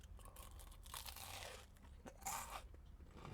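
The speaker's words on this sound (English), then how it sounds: "That crunch is addictive, and the potato is beautifully soft." Crisp crunching as someone bites into salted baked potato skin, with several quiet bites and chewing crackles close to the mic and no talking.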